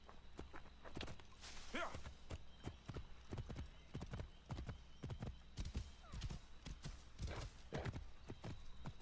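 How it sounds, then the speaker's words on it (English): Horse hooves in the game Assassin's Creed Origins, a rhythmic string of sharp clip-clops at walking to trotting pace, fairly close, with a brief whinny and a faint voice now and then. "I suppose I could call my horse and make this a little bit quicker."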